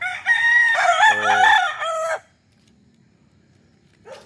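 A rooster crows loudly and close at the Guerrero chicken farm, one long harmonic call of about two seconds, followed by near silence and a brief second call starting at the end.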